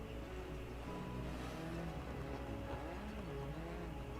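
A rally car engine in DiRT Rally 2 drones steadily at low volume, its pitch shifting as the revs rise and fall, with no voices present.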